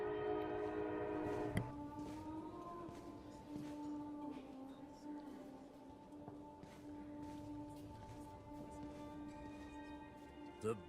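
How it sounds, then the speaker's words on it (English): Video game train rolling past with a steady low rumble and sustained horn-like tones, a sharp clunk near the start, the sound holding fairly even and moderately loud throughout. "Here comes the train."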